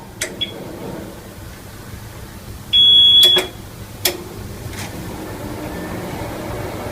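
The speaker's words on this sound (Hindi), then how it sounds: "अब जी यूपीएस ऑन करने लगे, पहली बीप आएगी और दूसरी बीप पे हाथ उठा लेना है।" A solar-powered home UPS inverter gives a single sharp, loud electronic beep lasting about half a second as it is switched on. Faint clicks and a low background hum surround it, and no one speaks.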